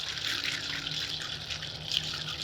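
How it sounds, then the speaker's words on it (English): Blueberry lavender lemonade stirred in a pitcher gives a steady, close watery swishing and sloshing that runs evenly throughout, with no voices. "Give it a good stir."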